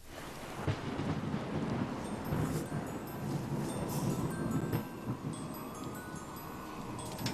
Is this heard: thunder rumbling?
yes